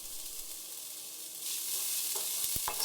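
Chopped garlic and ginger fry in a pan for a Bengali lobster coconut curry, the soft sizzle swelling midway and then joined by a couple of quick utensil knocks near the end, close and without speech.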